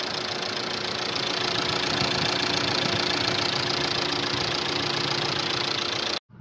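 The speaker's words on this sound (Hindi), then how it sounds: "गाड़ी का कंप्लेंट है इंजन में नॉकिंग है" A Jeep Compass engine with a knocking fault idles with a steady, close clatter that runs evenly for about six seconds before cutting off abruptly.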